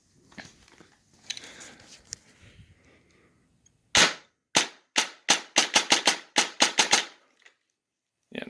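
A TSG 416 airsoft rifle fires a string of sharp, loud cracking shots, first a few single reports, then a quick irregular burst of close-range shots, with quieter handling noise before it.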